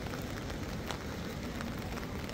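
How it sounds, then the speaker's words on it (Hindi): Continuous rain falls in a Uttarakhand village, a dense steady hiss of drops with faint scattered taps, even in level and fairly close throughout. "यहाँ पे लगातार हो रही है बारिश"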